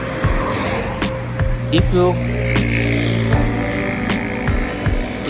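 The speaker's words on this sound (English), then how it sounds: "But today a lot of cars." Cars pass steadily on a local road in Japan during rain, with loud engine and tire hiss under a continuous wet wash. A voice is briefly heard.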